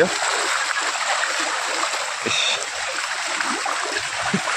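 Rainwater from heavy rain streams across a road in Dooars, North Bengal, a steady rushing wash with occasional splashes. A voice talks over it.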